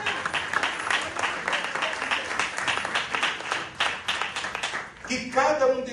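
A church congregation claps at length during a family worship service, dense steady applause filling the room before a voice begins speaking at the end.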